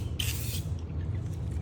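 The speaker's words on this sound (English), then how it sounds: "You wanna spray across too." An aerosol spray paint can hisses in one short burst onto a Hellcat five-spoke wheel being darkened black, close to the listener, then stops, leaving quiet room background.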